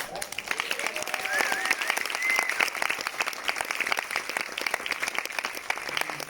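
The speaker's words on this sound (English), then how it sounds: "How about a round of applause for our director?" A crowd at a Hollywood film premiere at the TCL Chinese Theater applauds the director, dense steady clapping filling the room with a few cheers and whoops rising above it, continuing without a break throughout.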